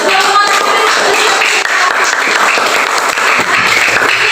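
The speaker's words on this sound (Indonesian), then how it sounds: "Tepuk tangan dulu, Nak." Fourth-grade pupils applaud in an elementary school classroom, a dense, steady burst of many hands clapping together, loud and close, lasting the whole stretch.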